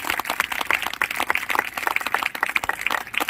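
A church congregation claps together in a dense, rhythmic burst of applause that holds steady throughout, with no speech over it.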